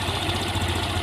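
A Honda Scoopy FI scooter engine idling with a low idle fault while its air screw is adjusted, giving a steady, close, continuous low hum with a faint regular pulse.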